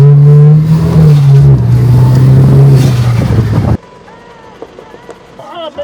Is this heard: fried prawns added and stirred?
no